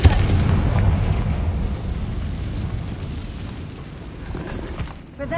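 A booming Confringo blasting-spell explosion in Hogwarts Legacy hits loudly at the start, then its low rumbling tail fades away over several seconds.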